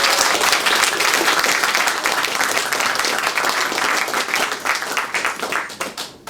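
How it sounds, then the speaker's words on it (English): A lecture audience applauds steadily and loudly, dense overlapping claps that thin out and fade near the end. "Round of applause, please."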